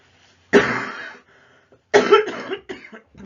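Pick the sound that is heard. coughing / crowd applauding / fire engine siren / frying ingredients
coughing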